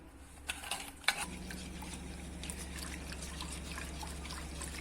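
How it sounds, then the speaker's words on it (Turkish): Cocoa mixture for a no-bake biscuit tart being stirred in a pot, soft wet scraping and a couple of sharp utensil clinks early, then a quiet steady churning hum. "Bunu güzel bir şekilde karıştıracağım."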